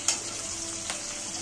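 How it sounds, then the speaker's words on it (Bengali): Hilsa fish frying in a pan, a soft steady sizzle heard close up with a couple of faint stirring clicks, brief and without voices. "ইলিশ মাছটা ভাজা হয়ে গেছে।"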